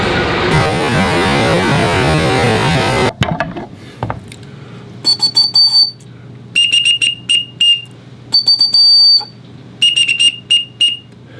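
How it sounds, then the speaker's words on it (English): After a burst of noise, a shrill chicken-shaped toy whistle is blown in a series of short, piercing toots with brief pauses between them, close and loud. "Chicken whistle, turtle whistle."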